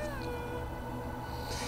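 A cat meows in Hollow Knight, a drawn-out wavering cry set against steady ambient game music and background hum.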